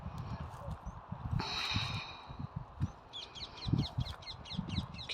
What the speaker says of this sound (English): Can you hear the chirps of the birds?